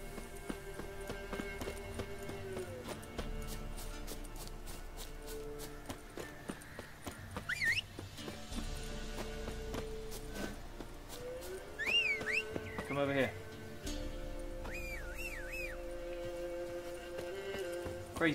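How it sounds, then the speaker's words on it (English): Horse hooves clip-clop steadily in the fantasy role-playing game The Witcher 3, moderately loud over a layered game soundtrack, with occasional whinny-like calls and little speech. "Crazy horse, come here."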